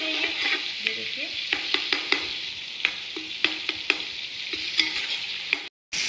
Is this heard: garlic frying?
yes